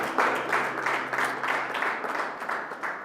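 A church congregation applauding during a worship service, a dense, rhythmic patter of many hands clapping close and steady throughout, without pauses.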